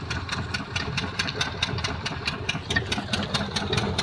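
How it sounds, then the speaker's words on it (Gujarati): A farm tractor engine idles close by in a steady, rapid knocking chug with evenly spaced beats, loud and alone without talk. "આપણું કંઈક એવું ટ્રેક્ટર છે,"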